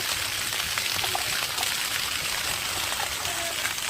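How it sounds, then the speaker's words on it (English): Water gushing steadily out of a natural tree trunk, a continuous close, bright splashing rush with no pauses and no voices. "Look at the volume of water that come out of a natural tree."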